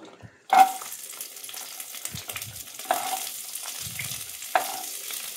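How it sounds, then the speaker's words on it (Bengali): Beans and carrots frying together in a pan for a mixed paneer dish, a soft steady sizzle with three sharper bursts as the vegetables are stirred or added, fairly close and alone. "এগুলো আর গাজরগুলো আমি একসঙ্গেই ভেজে নেব"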